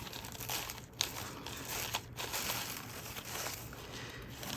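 Card packaging crinkles and rustles steadily as it is unwrapped up close, a continuous papery crumple with a couple of slightly sharper crackles, no voices.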